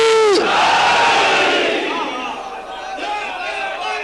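A majlis crowd roars the Naara-e-Haidari chant in unison, a loud massed shout opening with a rising cry and sustained voices that slowly fade, with a few scattered calls trailing after.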